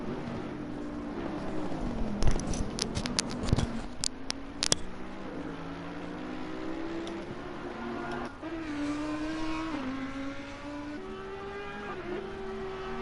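Onboard an Audi race car at Bathurst, the engine drones loud and steady with rising and falling pitch through gear changes, punctuated by a cluster of sharp clattering knocks early on.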